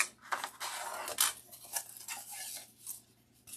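Scissors snipping through backing material for an 8-inch winter flower wreath frame, a series of close, crisp cuts and rustles with short pauses between.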